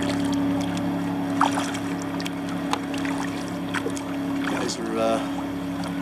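Fishing boats at full throttle on Lake Wylie, South Carolina, give a steady, distant motor drone heard from a kayak, with brief splashes and someone speaking briefly.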